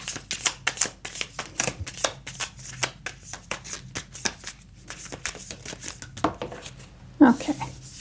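Oracle cards are shuffled by hand in a rapid, papery riffle of repeated flicks and slaps, near and fairly quiet, with a brief sharper knock near the end.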